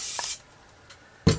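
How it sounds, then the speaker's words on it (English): A short hiss of 5-in-1 cool spray on a dog clipper blade, a burst at the start and another sharp, close blast near the end, with quiet between. "That's your 5-in-1 cool spray."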